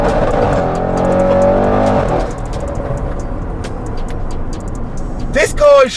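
Audi RS6 C7 estate with a Milltek exhaust, dropped into second gear and revving hard: a loud, rising engine note that swells for about two seconds, then settles into a lower rumble, with a short sharp burst near the end.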